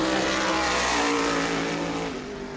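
Race car at New Smyrna during World Series qualifying, its engine roaring loud and steady at high revs, then easing slightly as it moves off, with no talk over it.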